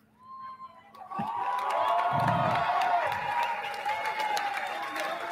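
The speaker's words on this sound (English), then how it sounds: "This crowd really wants to clap." A business forum crowd bursts into clapping and cheering after a quiet start, the applause swelling quickly and holding loud with whoops and shouts mixed in.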